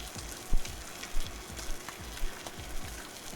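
Steak sears in vape juice in a hot pan, giving a steady loud sizzle and crackle with soft rhythmic thumps roughly every half second.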